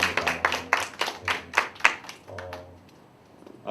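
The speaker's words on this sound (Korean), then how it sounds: "우리 다시 한번 박수로 환영하겠습니다." Church congregation at a Korean university-group Sunday service clapping to welcome guests, a short burst of loose, close clapping that fades after about two seconds, followed by a voice starting to talk.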